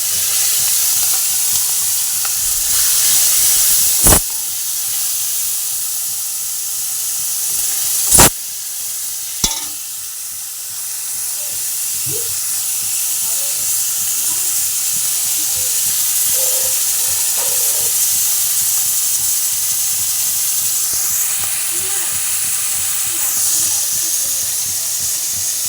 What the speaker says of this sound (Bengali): চিংড়ি মাছটাকে আমি এবার ভেজে নেব।